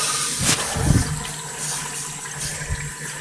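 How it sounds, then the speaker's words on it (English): A 1970s Kohler Kingston toilet in a university hall bathroom flushes weakly, a short gurgling rush of water followed by a soft, thin trickle refilling, close and moderately loud with no talking. "This one barely flushed."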